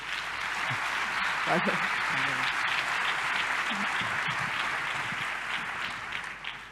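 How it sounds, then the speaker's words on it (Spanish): Sustained audience applause fills a conference plenary session hall on GIS technology, steady and dense throughout, with a few faint voices showing through beneath the clapping. "Un aplauso, por favor."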